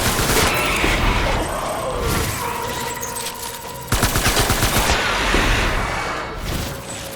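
Sustained automatic gunfire from a firefight in the video game Death Stranding, loud and continuous bursts of rapid shots with heavy impacts, a sharp renewed volley midway, no talking.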